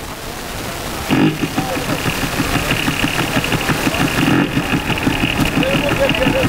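A voice imitates a CDI 800 motorcycle engine starting and revving up, a rapid throbbing putter that swells and drops, loud and close, with a brief break partway.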